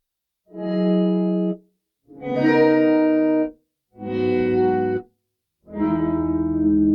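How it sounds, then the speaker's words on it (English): Four sustained guitar chords swell in gently from silence through Microcosm and Chroma Console effects pedals, each ringing with heavy effects and reverb before fading out, separated by short pauses. "let's just run all of the effects into swell, so that swell brings in those effects and takes them away"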